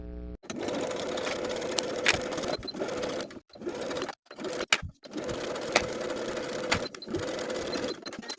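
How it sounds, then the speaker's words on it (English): A sewing machine stitches across the top edge of a skirt in several steady runs, its fast mechanical whir broken by brief stops, close-up and with no talking. "Then we'll sew across that top edge from one side to the other with a 1/2 inch seam allowance."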